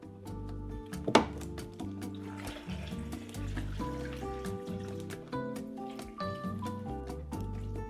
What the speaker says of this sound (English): now I'm going to fill this so that it covers with water